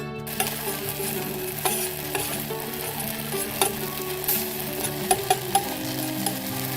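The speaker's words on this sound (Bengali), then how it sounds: "আমি এটা গরম করব অল্প তাপে এক মিনিট গরম করতে হবে" A face mask mixture heating in a pan on a stove over low flame gives a steady, close sizzle with scattered clicks of stirring and a few sharper taps near the end, no voices present.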